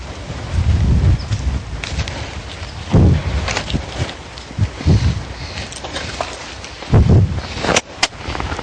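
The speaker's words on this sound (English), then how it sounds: "Now the wind is coming up, so the caution tape is flying in the wind." Wind gusts across a horse obstacle-training area, with caution tape flapping. A steady broadband rush is broken by several louder buffeting bursts, close and without talk.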